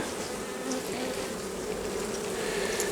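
A dense, steady buzzing of many honeybees at a hive fills the air, a constant close hum with occasional higher whines of individual bees.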